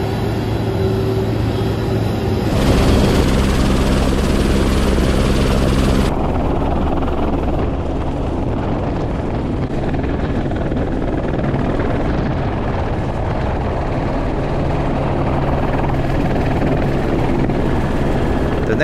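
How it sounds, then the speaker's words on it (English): A Rainbow Helicopters tour helicopter flies over Honolulu, Hawaii, heard from inside the cabin as a continuous loud rotor and turbine drone with steady low thumping, unbroken throughout. "Next one is the helicopter ride."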